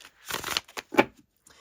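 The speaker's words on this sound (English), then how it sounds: "as I shuffle them, they don't want to go just like one card at a time" Tarot cards with matte cardstock being shuffled by hand, a few quick close riffling bursts separated by short pauses.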